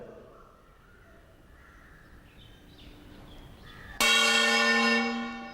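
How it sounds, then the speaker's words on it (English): Metal plate struck with a stick in a classroom sound lesson, a sudden loud bright ring after quiet room tone, sustaining and slowly fading. "As I am striking the plate and holding it immediately, the sound quality of this plate changes and ultimately the sound stop producing."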